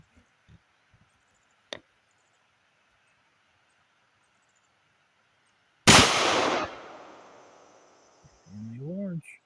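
A single loud, sharp report from a Tisas M1911 .45 pistol at the range, ringing out with a long decaying echo after a few quiet clicks, followed by a voice.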